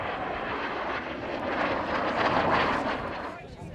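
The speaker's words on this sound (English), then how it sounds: "Here we go, from your right, ladies and gentlemen, the MiG-15." A MiG-15 jet fighter flies in from the right at an air show, its engine a loud, steady roar that swells toward the middle and fades slightly at the end.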